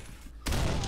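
A sudden loud burst of gunfire from the video game Condemned: Criminal Origins cuts in after a brief hush and holds for the rest of this very short moment.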